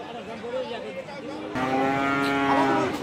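Cattle at a border-area livestock market where bulls are sold, lowing with long, resonant moos that swell loudly about halfway through, over a steady background of crowd chatter.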